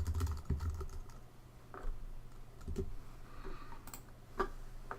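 Computer keyboard keys tap in short irregular bursts at close range, with scattered clicks and quiet pauses between keystrokes while a logo file is renamed.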